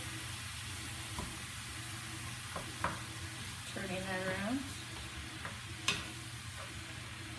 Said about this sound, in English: Okay, so our meat is browning.